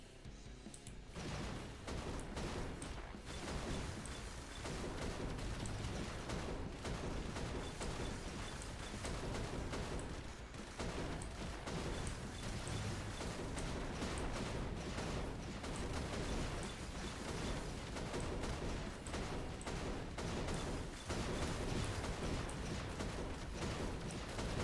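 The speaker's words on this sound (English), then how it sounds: "All those explosions going off." A dense, continuous barrage of muffled video game explosions in the game Midnight Survivors overlaps without pause, fairly quiet overall, with bursts of louder impacts scattered throughout.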